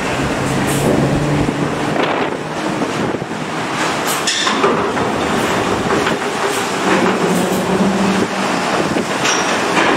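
A Puspa Jaya bus bound for Lampung–Blitar rolls past on the road, a loud, close, continuous roar with rattling and wind noise and a few brief higher tones, no voices.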